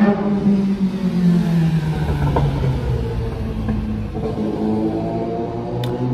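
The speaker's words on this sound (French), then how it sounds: "on va laisser passer la moto" A motorcycle engine drones steadily nearby as it passes, with a sustained low hum and a slight rise and fall in pitch over several seconds, heard alone without talk.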